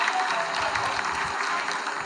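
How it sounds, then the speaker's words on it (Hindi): Dense, steady applause fills ISRO mission control during the Chandrayaan-3 lunar landing's vertical descent phase, a continuous wash of many hands clapping throughout. "Lot of applause indicates that till now the performance has been nominal."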